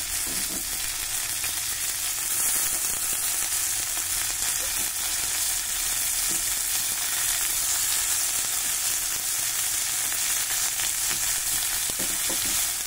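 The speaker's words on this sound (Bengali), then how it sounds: "এবার আমি ধুয়ে রাখা সজনে ফুলগুলো দিয়ে দিলাম।" Drumstick flowers fry in a pan with potato and onion in oil, making a constant, close, fine-grained sizzle with soft stirring scrapes running through it, steady and unbroken.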